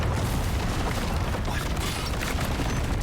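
A loud, sustained boom rumbles through a horror video game, a dense wall of low-end noise lasting the full few seconds without any clear separate blasts.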